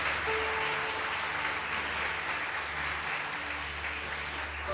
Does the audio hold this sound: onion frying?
no